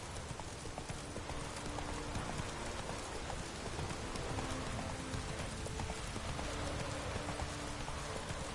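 Roach, a horse in The Witcher 3, gallops with rapid, steady hoofbeats under a constant wash of rain and ambient game noise, fairly faint and unbroken throughout.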